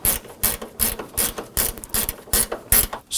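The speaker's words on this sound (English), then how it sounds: "Going to go ahead and snug down these upper bolts" A hand ratchet snugging down the AC condenser bolts on a 2005-2009 Subaru Legacy, eight or nine sharp rhythmic clicking bursts in quick succession, close and loud.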